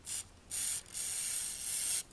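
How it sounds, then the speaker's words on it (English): Three short bursts of aerosol oil spray hiss close by into a Glock pistol trigger assembly, the last one held for over a second, with brief pauses between them. "spray some more oil down in here"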